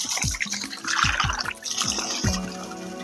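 Water at the Arure waterfall on La Gomera trickles and splashes steadily, with repeated soft, low plops every fraction of a second over a constant watery hiss, close by and moderately loud.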